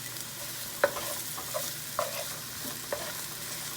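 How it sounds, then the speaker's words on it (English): Onions frying in a pan, with a steady soft sizzle and a few sharp scrapes and taps of a spoon stirring them at irregular intervals, close by and with no talking. "I'm going to stir that up just to let it get a little bit brown."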